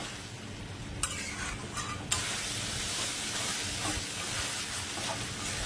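Fish pieces with softened tomato sizzle steadily in a hot pan, with short scraping stirs and a couple of sharp clinks, a continuous close frying hiss throughout.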